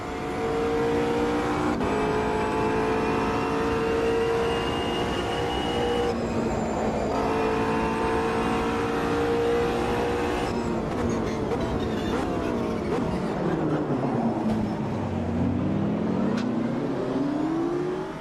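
A race car engine in the Automobilista 2 racing simulator screams at high revs, climbing through gears with brief shift dips, then dropping sharply in pitch under braking before revving back up, loud and continuous with no talking.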